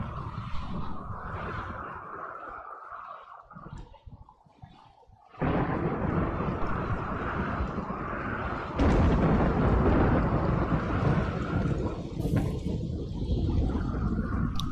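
Rumbling thunder and heavy rain wash through a Rimworld game storm, a continuous roar that dips quietly, then surges louder in two abrupt swells.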